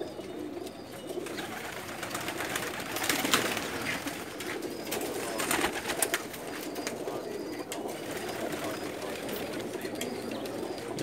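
Teddy pigeons coo softly in a loft, low murmuring calls repeating amid faint background rustle and distant noise, fairly quiet and close.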